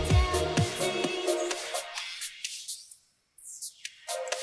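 Music passed through a high-pass filter in Ableton EQ8, starting full with bass and beats, then thinning as the lows are swept away until only faint high ticks remain, before fuller sound briefly returns.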